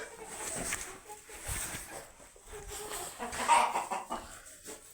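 A hen squawks and clucks repeatedly, loud and agitated, with rustling and faint background noise around it.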